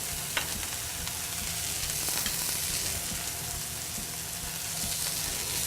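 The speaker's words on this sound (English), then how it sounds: "we're going to start to baste this right here with some oil that's in the pan" Fish pan-roasting in hot oil, basted with oil, thyme and butter: a steady, close, dense sizzle and crackle fills the whole stretch, with faint spoon scrapes and no talk.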